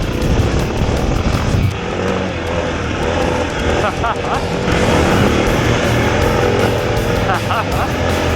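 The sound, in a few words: stock Suzuki DR650 motorcycle riding fast off-road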